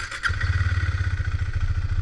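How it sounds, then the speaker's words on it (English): A Husqvarna 401 single-cylinder motorcycle starts and settles into a steady, close idle with an even low thumping pulse. "All right, the bike is on."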